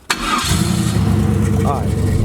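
A 500-horsepower turbo Chevrolet Camaro cranks briefly and fires, settling into a loud, close, steady idle rumble, with voices talking over it.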